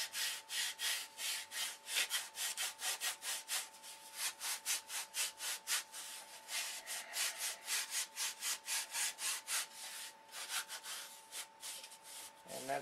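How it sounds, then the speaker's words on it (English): A large block wrapped in coarse 30-grit body shop sandpaper is sanded over the stabilizer of a control line electric Thunderbolt model plane. Steady, quick back-and-forth rasping strokes sound close and fairly quiet, with no talk. "This is a body shop 30 grit sandpaper, and I take a large block. This is 30 grit."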